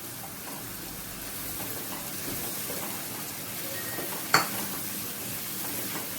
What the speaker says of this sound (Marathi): तर हे तेल सुटेपर्यंत 1-5 मिनिटं चांगलं परतून घ्या